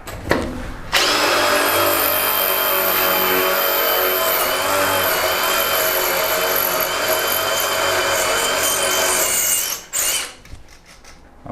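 A power drill fitted with an Onishi masonry bit roars steadily for about nine seconds as it bores through hard tile into concrete, loud and close, then winds down.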